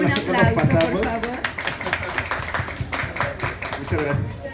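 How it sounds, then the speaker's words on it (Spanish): An audience at a book presentation breaks into close, steady clapping, a dense run of sharp hand claps lasting several seconds, with a voice speaking over the applause. "un aplauso, por favor"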